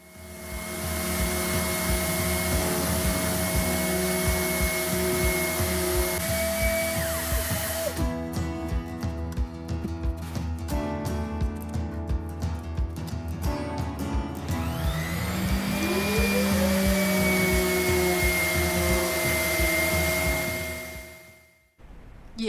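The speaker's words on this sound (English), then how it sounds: "I sanded down the filler until it was all smooth and beautiful" Steady, loud motorized whine of a power sander smoothing wood filler on a hall stand, running continuously with shifts in pitch and a brief change in texture midway before cutting off at the end.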